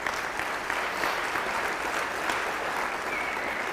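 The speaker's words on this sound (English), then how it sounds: "Please give them a round of applause." An audience at a county address applauds university leaders, a sustained, even round of clapping that carries on without pause, fairly full and close.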